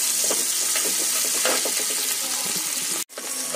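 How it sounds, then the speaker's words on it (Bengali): Chopped onion and ginger fry together in a pan with a dense, steady sizzle and crackle, close and loud, broken by a brief sharp clatter near the end. "এগুলো একসঙ্গে একটু করে ভেজে নিচ্ছি।"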